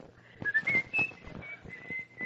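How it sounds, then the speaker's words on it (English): Someone whistles a lilting tune in a kitchen, a string of clear, fairly close, moderately loud notes with short breaks between them, heard alone. "Oh, stop whistling in my kitchen."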